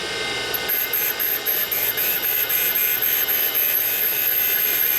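Valve seat grinding stone spinning against the seat of a 1980 Harley Sportster 74ci stroker cylinder head, a steady high-pitched whine with a faint regular pulsing, continuous and close for the whole stretch.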